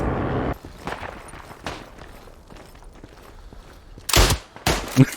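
Sporadic gunfire in the game Isonzo: scattered quiet shots and footsteps, then two loud explosive bursts near the end, close and sharp.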